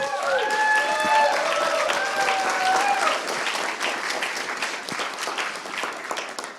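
Audience applause greets Jerzy's entrance at a Polish event for Roman Polański's film "The Palace". Dense clapping fills the room, with held music tones under the first three seconds, then tapers slightly toward the end.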